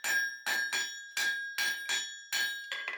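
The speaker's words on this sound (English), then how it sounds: "So now I'm just taking a curve-faced hammer and just working this." A curve-faced forging hammer rings sharply on hot steel being shaped into a bottle opener, about nine bright metallic strikes in an uneven rhythm, close and clear, each leaving a short ringing tail.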